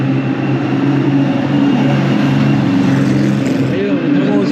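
An Alpine car drives past at a classic car event with a steady, loud engine rumble that holds close throughout under some background activity.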